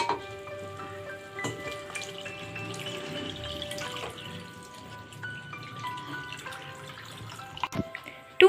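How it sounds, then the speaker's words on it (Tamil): About a litre of water poured into a pan of spinach and masala, giving a steady close splashing trickle with drips, fairly quiet, ending in a brief louder knock. "இதில் 1 லிட்டர் தண்ணி ஆட் பண்ணிக்கலாம்"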